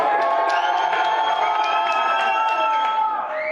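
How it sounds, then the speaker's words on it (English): A small crowd at 40 Wall Street in New York City cheers and applauds after a speech, a steady bright wash of voices and claps that holds evenly before easing slightly at the end. "it's a small crowd there at 40 Wall Street in New York City where he's giving that speech, but like they're applauding"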